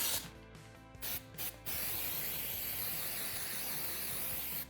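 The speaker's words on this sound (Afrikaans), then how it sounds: "Nou spuit ons." An aerosol can of glue activator sprays onto a wooden farm-kitchen cupboard in a few short bursts and then one long continuous hiss, close and clear.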